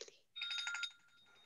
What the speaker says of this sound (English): I love that phone ringer.